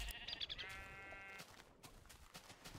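A sheep bleats in Minecraft Tekkit: one drawn-out, wavering bleat up close, then softer scattered noises over a continuous background.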